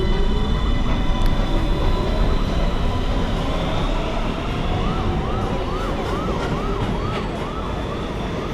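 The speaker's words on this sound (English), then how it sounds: "This is a Manhattan-bound 1 train." A Manhattan-bound NYC subway 1 train pulls out of the station, its steady loud rumble and wheel roar filling the platform, with a warbling siren-like tone rising and falling over the motor noise midway.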